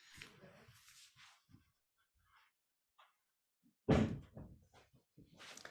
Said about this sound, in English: Sorry, I'm just going to go and close that door.